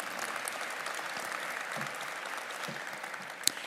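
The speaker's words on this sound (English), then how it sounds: "Let's give him a round of applause," Commencement ceremony audience applauding steadily, a dense sustained clapping from a large crowd with one sharper clap near the end.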